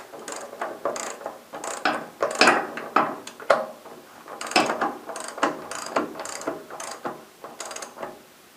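Front axle nut on a Ducati M1100 being tightened by hand, a string of quick ratcheting clicks in short bursts, close and fairly quiet, with no talking.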